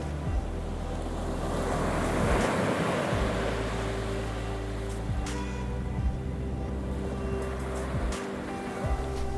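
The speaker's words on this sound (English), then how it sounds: "South Beach greets you with dramatic cliffs and crashing waves, pebble clattering with each surge." Pacific Ocean waves crash onto a pebble beach below cliffs at South Beach on Vancouver Island, with a steady roar of surf, surging washes and pebbles clattering. Wind buffets the microphone.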